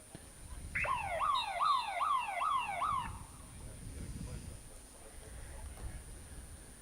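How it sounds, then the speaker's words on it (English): A buzzer sounds the end of the second quarter in a field hockey match, a loud warbling electronic tone lasting about two seconds, followed by low crowd and background voices. "So as the buzzer goes for the end of the second quarter"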